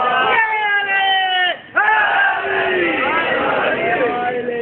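A crowd at a Shia majlis gathering chants religious slogans in unison, loud sustained massed voices with a brief break before the chant resumes.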